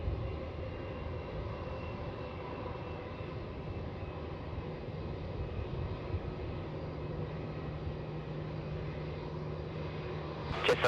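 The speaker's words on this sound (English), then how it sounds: "Got Air India next coming up to take off, sorry, on 16, off to Delhi" An Air India Boeing 787-8 roars down runway 16 at Melbourne Airport on takeoff for Delhi, a steady distant jet rumble holding level throughout without voices.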